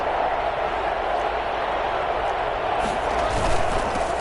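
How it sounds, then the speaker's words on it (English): A stadium crowd in a football video game keeps up a steady, distant roar that swells slightly near the end, with a commentator's voice running over it. "the crowd getting into it"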